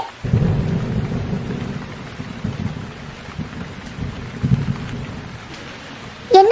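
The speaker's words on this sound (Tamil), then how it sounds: "மழை பயங்கரமா பெஞ்சிட்டு இருக்கு" Heavy rain pours steadily with deep thunder rumbling throughout, loud and continuous, swelling near the end; no voices.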